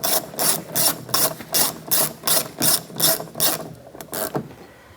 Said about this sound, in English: What we need to do is take the T20 socket and tighten that bolt.